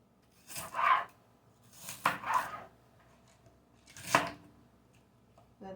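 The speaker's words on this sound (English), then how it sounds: "just chop them up." A knife chops vegetables for a steamed pumpkin dish in three separate bursts of quick cuts, spaced a second or more apart, against a quiet kitchen background.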